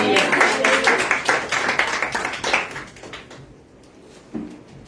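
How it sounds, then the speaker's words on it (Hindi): A church congregation claps together during a sermon, a loud burst of rapid hand claps that gradually fades out into quieter room sound, with one last sharp clap near the end. "ताली बजाकर धन्यवाद"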